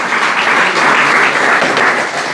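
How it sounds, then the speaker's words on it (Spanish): A congregation at a Spanish-language church service claps loudly for the Lord, a dense, steady roar of applause filling the room at full volume throughout. "Dale un fuerte aplauso al Señor."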